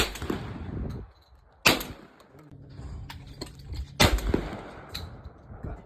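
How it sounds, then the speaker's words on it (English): A Stoeger M3500 shotgun fires outdoors: two sharp, loud blasts a couple of seconds apart, each with a brief echoing tail, plus a fainter crack early on and small handling noises between shots. "Now coming up is the juicy montage footage of the shotgun in action"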